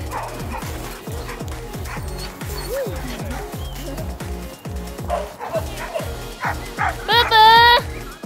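Samoyed dogs gather in snow, barking and yipping near and far alongside soft whimpers, with a rhythmic crunching of steps on snow throughout and a loud high whine near the end.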